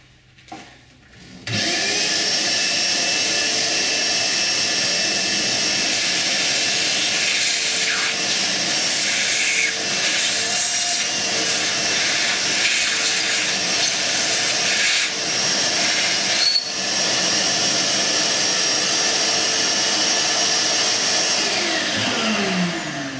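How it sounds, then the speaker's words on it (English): A vacuum cleaner cleans debris out of a partly dismantled Stihl HL 100 hedge trimmer, a loud steady whine that starts abruptly after a brief clatter and drones on unbroken, with faint scraping and knocks under it. "I think I might vacuum it first, actually"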